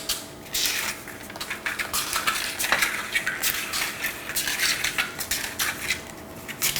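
Paper liners being set into a muffin tin, a quick run of light rustling, crinkling and soft metallic taps, close by and fairly busy, with no talking.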